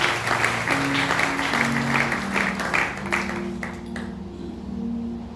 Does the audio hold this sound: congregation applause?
yes